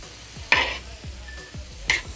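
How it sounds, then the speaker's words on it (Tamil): Chopped onion and capsicum sauté in a pan for an egg tawa burger, a steady sizzle broken by two sharp spatula scrapes and stirring clatters against the metal. "நல்லா வதக்கிக்குங்க."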